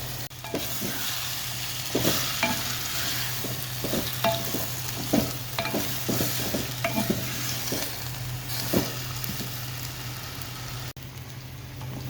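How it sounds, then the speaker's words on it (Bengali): Ginger, garlic, turmeric and chilli spice paste frying in a clay pot, with steady sizzling and repeated stirring scrapes against the pot, over a constant low hum. "আদা রসুন হলুদ মরিচ সব কিছু দিয়ে এখানে মশলা কষিয়ে নিচ্ছি"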